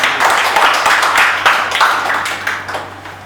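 A seminar audience claps together on request, loud, dense applause with some rhythmic pulsing that carries through the whole stretch, fading slightly at the end, with no voices over it.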